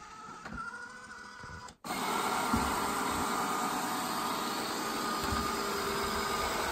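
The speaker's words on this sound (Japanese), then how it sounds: "ロボット掃除機をつけて" A robot vacuum cleaner starts up after a brief dip, then runs with a steady whirring motor and brush hum, close and even for several seconds.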